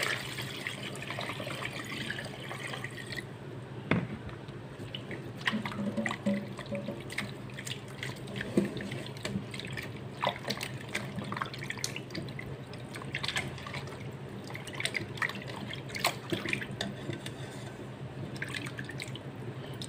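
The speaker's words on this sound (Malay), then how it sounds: "Ayam sebanyak 1 ekor telah pun dibasuh dan akan dibasuh lagi dengan sedikit tepung gandum sebanyak setengah cawan" Raw whole chicken being washed by hand in water with wheat flour and rice-rinse water, with steady drips, trickles and small splashes close by and no talking.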